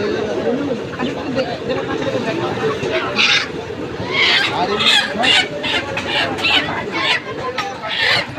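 Local chickens cluck and squawk in a busy, noisy poultry shop, their calls mixing with people talking nearby.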